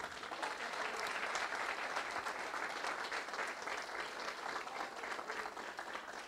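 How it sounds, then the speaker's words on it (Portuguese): A church congregation in Brasília applauds steadily, a dense wash of clapping that holds at an even level throughout without a break. "Você pode aplaudir o Senhor?"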